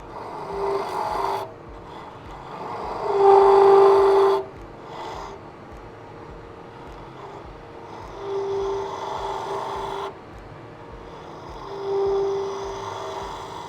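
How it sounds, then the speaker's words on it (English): A spindle gouge cutting into a spinning wood workpiece on a lathe, with repeated rasping cuts swelling and fading across several passes, each a few seconds long, close and fairly loud over the motor's hum. "Spindle gouge, we want to go in flat,"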